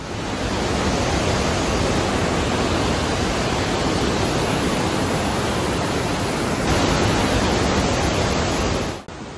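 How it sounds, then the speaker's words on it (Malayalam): Water rushing steeply down the rock walls of Partnach Gorge in Bavaria, a loud, unbroken roar that fills the whole stretch and cuts off abruptly at the very end. "സൈഡില് കുത്തനെ ഒലിക്കുന്ന വെള്ളം"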